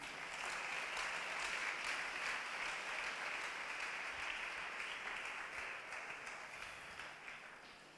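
Church congregation applauding together, a sustained, fairly distant patter of many hands clapping that stays steady before gradually fading toward the end.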